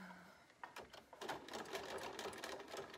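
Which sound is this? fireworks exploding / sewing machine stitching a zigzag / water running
sewing machine stitching a zigzag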